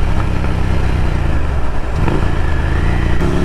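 A Ducati Scrambler Café Racer fitted with a Vance & Hines exhaust runs close by, its steady engine rumble rising briefly in a rev near the end, loud and alone with no talk.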